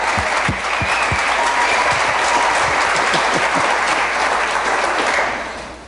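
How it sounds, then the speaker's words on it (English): A crowd applauds steadily and densely for about six seconds, honoring a couple standing up at a celebration; the clapping is loud and fills the space, then tapers at the end. "let's give them a round of applause."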